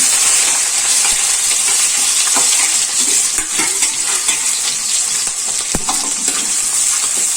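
Chopped green chillies and onions sautéing in hot oil in a pan for a Kerala dish, a loud continuous sizzle with scattered scrapes and clinks of stirring, no talk.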